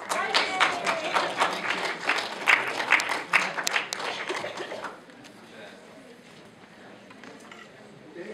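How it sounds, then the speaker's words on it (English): Audience applause at the close of a Utah science standards review meeting, dense clapping for about five seconds before fading into quiet room noise. "Now we can clap."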